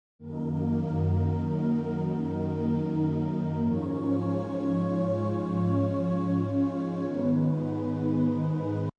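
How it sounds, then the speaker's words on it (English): A sustained synth pad holds warm layered chords, shifting smoothly to a new chord midway, steady and alone without voices. "I have a pad here that sounds like this"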